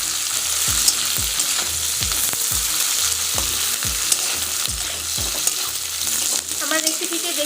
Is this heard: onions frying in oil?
yes